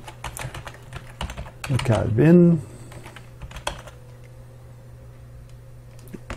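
Typing on a French computer keyboard gives brisk close key clicks, first in a quick run and then scattered taps, with someone speaking briefly over the clicks.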